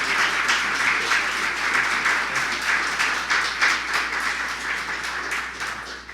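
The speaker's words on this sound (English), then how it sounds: "So let's give a round of applause." Steady audience applause at a grand opening ceremony, many hands clapping evenly and continuously throughout, fairly loud and full, with no speech on top.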